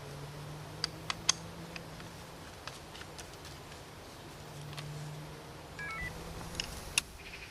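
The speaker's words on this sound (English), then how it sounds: "getting the bite alarm set up on the bank" A fishing bite alarm being set up beside a rod on a canal bank gives a few short, sharp electronic beeps and clicks at irregular intervals over a quiet outdoor background with a low hum.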